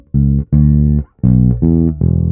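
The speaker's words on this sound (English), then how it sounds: "It has this fundamental bass riff," A fundamental blues bass riff on bass guitar, heard alone and close. Five separate sustained low notes are played in sequence with short gaps between them.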